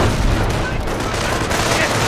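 Battle gunfire in the WWII strategy game Company of Heroes, set around Cherbourg: a dense, continuous fusillade of overlapping rifle and machine-gun shots, loud and steady, with voice callouts mixed into the din.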